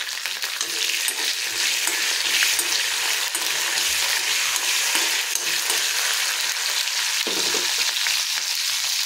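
Green chilies fry in a pan for coriander chutney, making a continuous close sizzle with occasional stirring and scraping sounds throughout.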